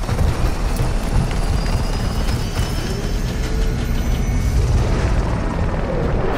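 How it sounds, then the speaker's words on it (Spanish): A helicopter in the video game Call of Duty: Modern Warfare II gives a loud, steady rotor roar with a rough, choppy texture. It persists unbroken and close throughout. "¿Eso quiere el helicóptero?"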